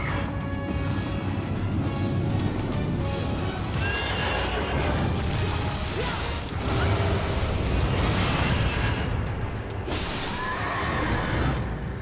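A horse-headed Mezuki yokai boss in a video game neighs and whinnies repeatedly over clanking, creaking game effects and crashing impacts, loud and busy throughout.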